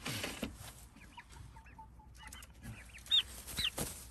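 Hens stepping out of a Chickshaw XL coop onto grass for the first time, with faint, scattered clucks and a couple of sharper calls near the end over quiet background rustling.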